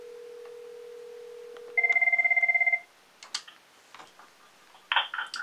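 A Cisco IP Phone 7942 first gives a steady tone, then rings with a rapid warbling electronic trill for about a second, followed by a few faint clicks and handling knocks nearby.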